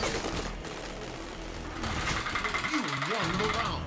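Rapid gunfire bursts from the Halo 5 beta, dense and continuous under excited shouting players, with a mechanical rattle running throughout.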